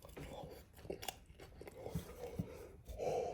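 Someone bites into a crispy pan-fried salmon patty and chews, with soft crunches and moist chewing sounds close to the mic and a few sharper bites.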